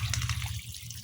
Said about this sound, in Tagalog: Maglagay tayo ng konting tubig.